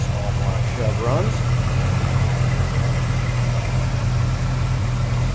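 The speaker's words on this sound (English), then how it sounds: "See how smooth that small block Chev runs." A small block Chevrolet V8 with an Edelbrock carburetor idles smoothly in a 1957 Chevrolet 150 two-door sedan, a steady low throb heard up close, with someone talking over it briefly.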